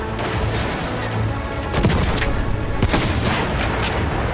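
Bursts of gunfire and booming impacts from the World War I shooter Battlefield 1, several sharp loud cracks spaced over a few seconds against a dense battle background.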